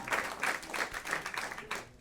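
Comedy club audience applauding, a dense patter of many hands clapping with rhythmic surges, fairly close and steady for a couple of seconds, with some crowd voices mixed in.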